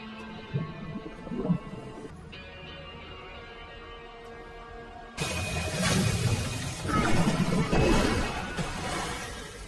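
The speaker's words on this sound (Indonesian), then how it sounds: "memasukkan semacam bahan kimia yang membuat kaca kolam renang itu retak" Swimming pool glass cracks and shatters in a film scene: a low, murky backdrop gives way midway to a sudden loud, broad crash that keeps rumbling and splashing to the end.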